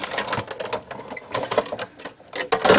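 A die-cutting machine cranks a 2¼-inch stitched oval die through a paper sentiment, giving a close, busy run of clicking and whirring mechanical bursts with short pauses between them.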